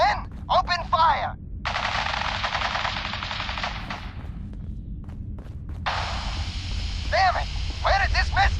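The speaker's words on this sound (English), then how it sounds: "Stop or we'll shoot. Men, open fire." Bursts of automatic gunfire in the Fallout 4 video game rattle loudly in two long volleys, separated by short gaps where voices shout briefly.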